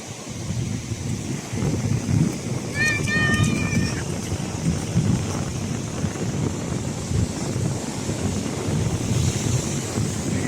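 Wind blows steadily over a boat on open water near Amsterdam, a broad rushing roar with lapping waves throughout; a short tonal chirp rises briefly near the start.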